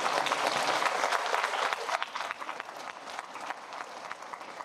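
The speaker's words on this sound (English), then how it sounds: "Please just give a round of applause for our amazing instructional aides." Audience at a school district workshop applauds the district's instructional aides. The clapping is moderately distant and dense at first, then thins into scattered claps.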